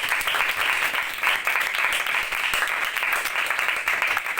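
A church congregation claps together at a Mother's Day service, a steady, fairly loud burst of applause lasting several seconds with no voices on top.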